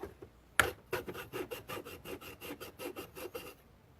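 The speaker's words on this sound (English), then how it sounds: "It's a hacksaw. It's not really meant for cutting wood like that." A hacksaw cuts through wood in a quick, even rhythm of about fifteen rasping strokes, close and fairly quiet, opening with one sharp louder stroke before settling into steady back-and-forth sawing.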